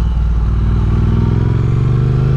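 A Triumph Speed Twin 900 motorcycle being ridden, its engine giving a steady, loud low drone with a throbbing rhythm throughout, close and continuous with no voices.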